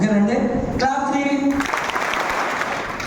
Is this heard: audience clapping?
yes